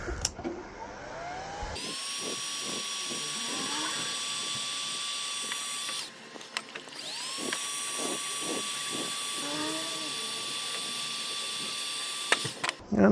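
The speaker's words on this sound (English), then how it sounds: "Reach over here, get the heat gun." Heat gun blowing a steady stream of hot air during a classic resole of NPS Solovair boots, with two long sustained runs of whining airflow broken by a short pause, and faint tapping and handling noises underneath.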